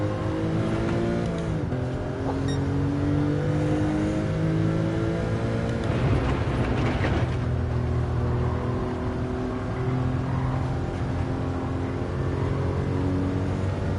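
A Porsche racing car engine in the video game Gran Turismo 7 drones and revs up and down through gear changes, steady and loud for the whole stretch, with no talking.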